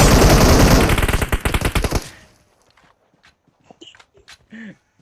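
Rapid automatic gunfire in PUBG Mobile, a loud fast burst of shots lasting about two seconds, followed by quieter scattered game sounds and faint clicks.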